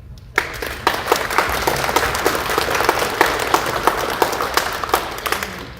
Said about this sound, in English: You should give yourselves a round of applause and your neighbors.